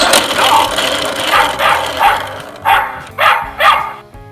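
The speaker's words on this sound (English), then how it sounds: "What sound does a dog make?" A recorded dog barks repeatedly from a Fisher-Price See 'n Say The Farmer Says toy, a series of short evenly spaced barks that grow sharper toward the end.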